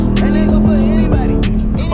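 A Ram TRX truck with a Hellcat engine drifting: a loud, close, continuous engine roar blended with squealing tires, steady throughout.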